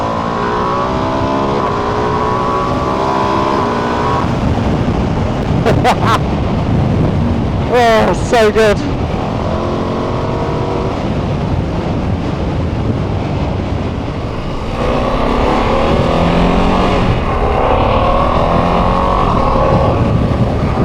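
A Ducati Multistrada V2S V-twin motorcycle engine revs and pulls hard in a loud, sustained drone with wind roar and rising and falling pitch as it accelerates, while a rider speaks briefly over it.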